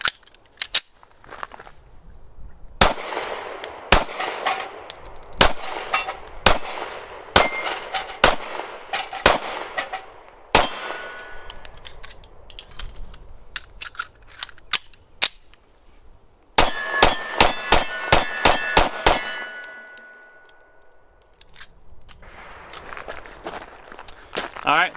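Star Model BM pistol firing through a couple of magazines, loud sharp shots in quick rhythmic bursts with pauses between strings, metallic clangs mixed in, and faint talk between volleys.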